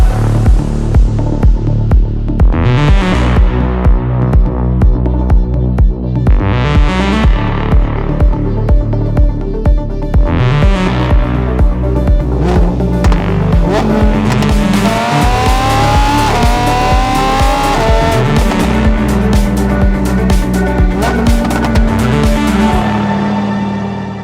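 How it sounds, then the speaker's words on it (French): Lamborghini Huracan Technica with a naturally aspirated 640 hp rear-drive V10, revving loud and close through repeated rising gear pulls with sharp shifts, a sustained high wail in the middle stretch, then settling before cutting off. "on essaye l'une des dernières Lamborghini à V10 atmosphérique de l'histoire"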